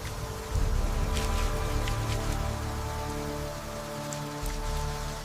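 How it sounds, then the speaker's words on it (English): Steady rain falls during a storm in a prehistoric wilderness setting, a dense continuous hiss with a few brighter drop patters, even and moderately loud throughout with no voices. "She moves only when the rain covers the sound."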